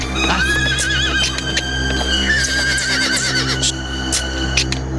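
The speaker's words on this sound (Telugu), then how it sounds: "గుర్రమేంటి ఇలా మొరాయిస్తుంది?" A horse neighs and whinnies repeatedly while refusing to move, with hoof clip-clops and a steady hum beneath, heard close and clear in a Telugu-dubbed suspense drama.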